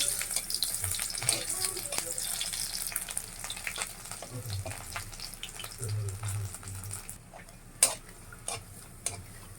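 Chopped garlic and dried red chillies frying in hot oil for a mustard-seed vorta, a steady close sizzle with stirring scrapes, a few sharper clinks near the end.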